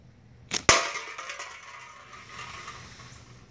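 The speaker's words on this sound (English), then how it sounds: "how hard this slingshot hits when it hits with lead" A flip, a homemade slingshot loaded with lead shot, gives a sharp snap and a second louder crack close together, followed by a fading rattle and no talking.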